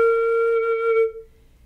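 Single low flute note on the head joint, started with the tongue for a clean defined attack, sustained steadily for about a second before tapering off, close and solo.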